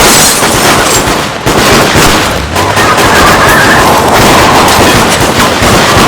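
Dense, loud bursts of gunfire crackle nonstop from a street shootout in a crime drama, a harsh barrage that fills the whole stretch without pause.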